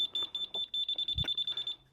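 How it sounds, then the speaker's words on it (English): Motorcycle alarm on a Kawasaki Z750, a rapid run of loud, evenly pulsed electronic beeps repeating about ten times, with a brief low thump partway through and faint background noise. "Oh, that's the alarm on the bike."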